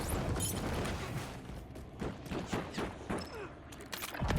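Gunfire crackles in the battle royale game Call of Duty Warzone, a series of scattered distant shots and pops over a constant background rumble.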